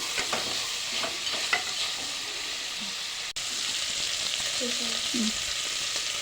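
Steady sizzling of spices frying in oil for mutton curry, with a spoon stirring and scraping the pan a few times.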